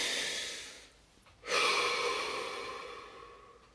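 A single deep breath drawn in and slowly released during a quiet meditation session, soft and close, fading gradually after a brief pause.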